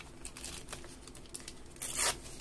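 Paper close by being screwed up and crumpled by hand for an altered book junk journal collage, a series of soft crinkles ending in a louder, tighter scrunch near the end.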